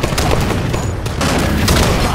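Loud, dense blast and rumble in Halo 5, a grenade explosion amid a continuous wash of close gunfire and battle noise with brief sharp peaks.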